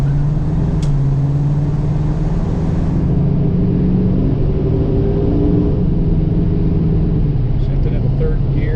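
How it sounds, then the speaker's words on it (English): A numbers-matching 1978 Chevrolet Camaro with its 350 engine rumbles steadily while driving, its tone shifting partway through as the gears change, with a voice talking over it. "Shifted into third gear, just nice and smooth."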